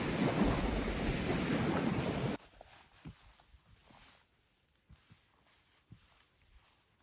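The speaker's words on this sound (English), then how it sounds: "Rained pretty heavily through most of the night." Heavy overnight rain falls at a backcountry lakeside campsite as a loud, dense hiss, then cuts off abruptly into near quiet broken by scattered soft thuds.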